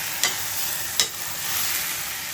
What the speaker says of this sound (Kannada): ತರಕಾರಿಲಿರೋ ನೀರಿನ ಅಂಶ ಎಲ್ಲ ಸುಂಡೋವರೆಗೂ ಫ್ರೈ ಮಾಡ್ಕೊಳ್ಳಿ ಸಾಕು.